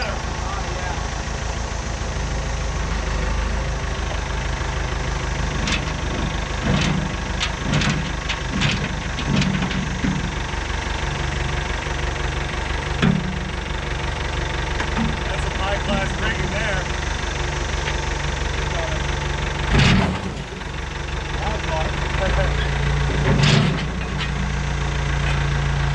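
An old engine idles steadily at moderate distance on an old farm with 1932 and 1947 Ford panel trucks nearby, a low rumble joined by scattered knocks and clanks, with people talking over it.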